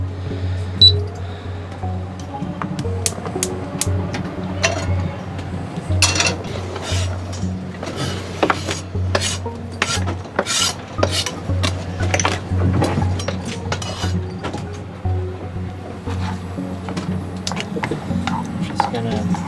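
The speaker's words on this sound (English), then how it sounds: "Just gonna let that boil and then simmer for a bit" A pot clinks and rattles on a small stove in a sailboat galley, with scattered metallic taps and knocks over a low steady hum.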